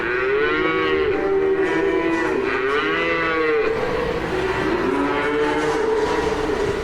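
A dairy cow in Lancaster County moos in long, loud, drawn-out calls, several lowing bellows rising and falling one after another with no pause, close and filling the whole stretch.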